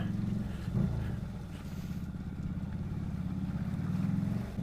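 A Vendetta 250cc motorcycle rumbles steadily while being ridden, a continuous low engine drone with wind noise and slight swells in loudness, no talk over it.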